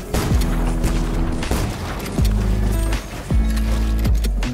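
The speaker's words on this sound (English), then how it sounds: "Shooting him out." Gunfire in Fortnite during a cash cup match, with loud booming shots arriving in a few separate bursts, each followed by a falling mechanical tone, close and dominant with no voices.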